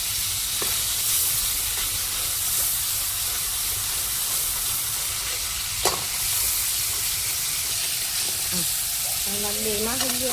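Fish pieces frying in a pan of oil during home cooking, giving a steady sizzle and hiss throughout, with a sharp utensil knock midway and brief clinks and voice near the end.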